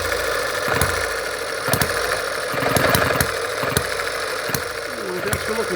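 An M91 Microcosm hit-and-miss model gas engine with nickel-plated plumbing and exhaust muffler fires in sharp, irregularly spaced pops over a steady mechanical hum, close and fairly loud, with no one talking.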